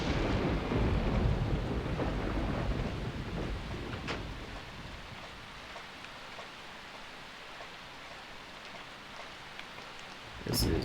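Heavy rain falls through a thunderstorm in the video game Deadly Premonition. Rumbling thunder is loudest at the start and fades under a steady hiss of rain, and a sharp crack of thunder returns near the end.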